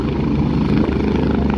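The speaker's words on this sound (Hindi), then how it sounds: "देखिए जमीन से हेलीकॉप्टर ऊपर उड़ चुका है" A helicopter lifts off the ground at an outdoor political rally, its rotor and engine producing a loud, steady, close roar throughout.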